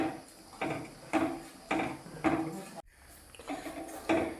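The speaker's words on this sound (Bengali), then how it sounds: "তো আমি হালকা হালকা নেড়ে যাচ্ছি, দুধ ফুটে যাচ্ছে, চালও দেওয়া হয়ে গেছে, আমি শুধু নেড়ে যাচ্ছি" Spoon stirring Gobindobhog rice as it boils in milk in a pot, gentle scraping strokes repeating about every half second, soft and close, with a brief break midway.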